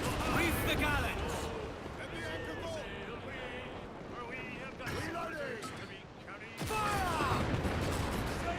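Ship cannons in a naval video game fire in heavy booming volleys over rumbling ambience, with shouted voices and speech running throughout.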